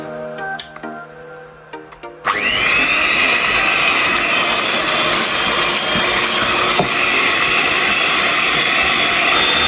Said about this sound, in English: So I'm going to be beating my butter a little bit.